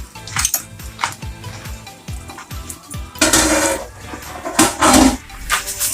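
A pot lid comes off and Chinese-style noodles with an African twist get stirred: a run of sharp metallic clanks and knocks against the pot, then louder, longer scraping sweeps in the second half, close and without talk.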